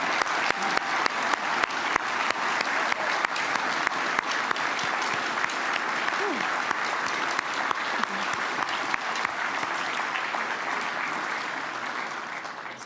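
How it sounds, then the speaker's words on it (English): An audience gives a speaker another round of applause at a live event announcing the referendum date; steady, full clapping fills the whole span, fairly near and even, tapering slightly at the end. "Can we please give him another round of applause?"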